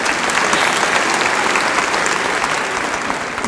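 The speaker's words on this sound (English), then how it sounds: "You can clap." Audience applause at the 2017 Nation Ford High School graduation ceremony, a loud, dense, sustained clapping from a large crowd that fills the whole stretch without letup.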